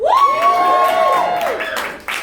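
An audience at a comedy camp showcase joins in a long, loud drawn-out group boo that falls away, followed by a short burst of cheering.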